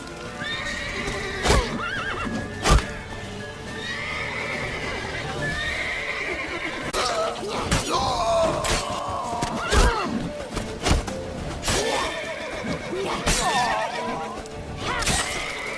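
Horses in The Witcher 3 whinny and neigh repeatedly over the clip-clop of galloping hooves, with sharp thuds and crashes cutting in and occasional voices in the mix.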